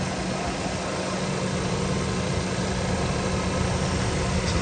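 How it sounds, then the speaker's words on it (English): A portable Amazon tire inflator pump with a clamp-on valve connector and a flaky on-off switch runs as one steady, close mechanical drone with a low hum, holding a constant level throughout. "This thing's already on because of the flaky on-off switch."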